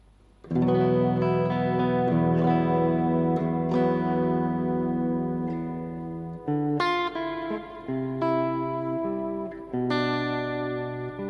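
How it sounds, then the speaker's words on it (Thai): Geneberg Astro mini guitar strummed through a heavy, washy reverb, sustained chords ringing and blooming into long tails, with a couple of fresh strums near the end, loud and close with no talking. "ต่อมานี้เป็นแบบรีเวิร์บช้ำๆหน่อยนะ"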